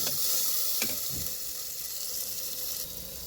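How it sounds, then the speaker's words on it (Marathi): Tomatoes, coriander and curry leaves frying in a pan on a wood-fired stove, giving a continuous close sizzle with faint stirring scrapes early on. "बघू शकता अशा प्रकारे त्यांना चांगलं फ्राय करून घेत आहे."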